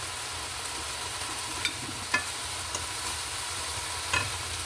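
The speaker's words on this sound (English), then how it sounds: "So it's simmering and cooking." Turkey and onions simmer in a pan for a broccoli and cauliflower bake, giving a steady soft sizzle with a few faint clicks of a utensil, heard alone without talk.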